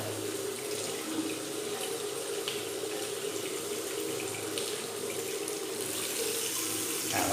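Steady running water pours from a tap fed by an electric water pump in a home setup, a continuous hiss and splash heard alone and close at moderate level.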